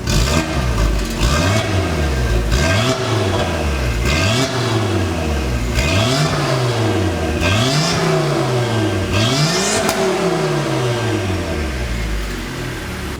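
A Volvo S60R engine, first started after four years, revs repeatedly to 4,000 RPM, rising and falling in pitch about eight times in a rhythmic series of loud, close bursts.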